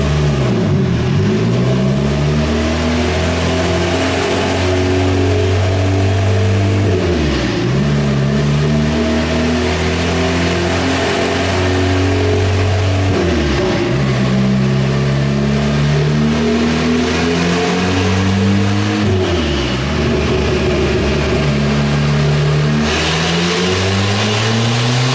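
A turbocharged Honda Civic engine revs repeatedly on a dyno, each pull climbing steadily in pitch to the limiter before dropping back, about four loud sweeping runs with no talk.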